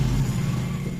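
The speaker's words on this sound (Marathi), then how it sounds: "गाड्यांचा आवाज खूप येतोय" Road traffic passes outside a tailoring room as a low, steady engine rumble, brief and fairly loud.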